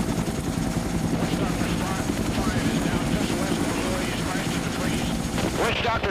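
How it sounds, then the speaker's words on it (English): Military helicopters fly in toward a landing zone in Laos during Operation Lam Son 719 in 1971, a loud, continuous rotor drone with sporadic sharp noises layered over it, under a voice. "Over the radios, we can hear the choppers ahead of us."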